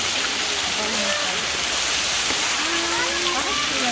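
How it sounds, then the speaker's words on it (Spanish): A water massage jet at the Ichanmichen spa pours hard and steady, a loud continuous splashing roar with a voice talking faintly beneath it. "aquí vemos a Charlie dándose una ducha en este chorro de masaje aquí en Ichalmichen"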